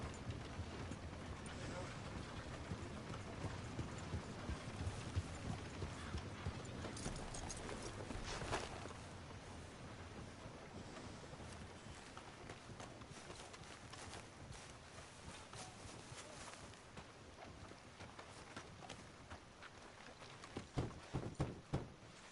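Horse hooves clip-clopping at a run in Red Dead Redemption 2, a steady rhythmic patter with other game sounds layered over it. Occasional speech is mixed in, and a few louder thuds come near the end.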